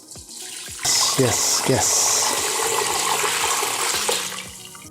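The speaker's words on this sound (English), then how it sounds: "I'm going to transfer this beautiful broth carefully because it's hot, to the other pan" Hot chicken broth poured through a colander into a second pan makes a continuous splashing gush that starts abruptly and runs for several seconds, with a brief spoken word near the start.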